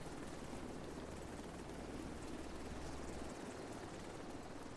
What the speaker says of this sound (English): There's our chopper we're going to use to get our bag on.